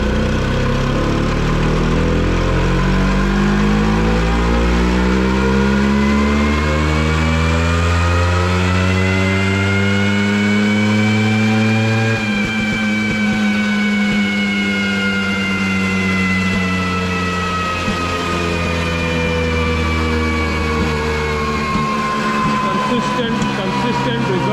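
A stock Honda Activa 6G scooter runs hard on a dyno in fourth gear. The loud engine note climbs steadily in pitch through a long pull, then eases off near the end, with no other sounds over it.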